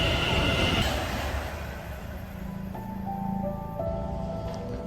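A London Overground Class 378 train pulls into a station, a steady rumble of wheels and motors with rising tonal whines and brake hums, close and fairly loud without talk.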